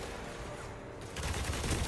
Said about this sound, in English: You can actually keep that speed up if you do short bursts, see?